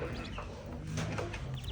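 Chickens, with chicks and a duck nearby, cluck and chatter steadily at morning feeding time, several birds close by in a continuous, busy mix of short calls with no talking.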